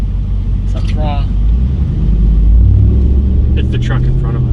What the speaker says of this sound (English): It's the truck in front of us.